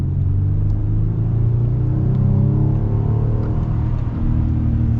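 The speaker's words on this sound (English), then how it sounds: "let's see how this V6 performs." A 2023 Ram 1500 pickup with a V6 accelerates from a steady rolling start, its engine note climbing in a loud, continuous rumble with no talking over it.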